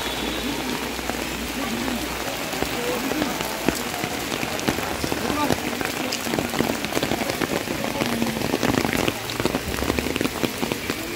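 Monsoon rain pours steadily during a Savan visit to Bhuteshwar Nath Mahadev in Gariyaband, Chhattisgarh, a dense hiss of drops pattering on surfaces, continuous and fairly even, with faint voices now and then.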